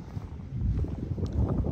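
Strong wind blowing outdoors at a grey-stone hotel in Bodrum, a low, rumbling gusty roar buffeting the microphone continuously, loud and close throughout.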